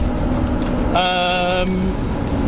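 A Reliant car with no sound deadening rolls along, its differential and drivetrain giving a steady low road rumble with a brief whining tonal hum partway through, heard from inside the cabin.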